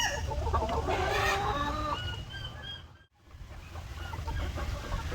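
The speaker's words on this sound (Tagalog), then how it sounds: "umiiri na itong manok na ito" A hen clucks loudly and repeatedly while laying an egg on a small farm, her calls breaking off briefly midway before the clucking resumes.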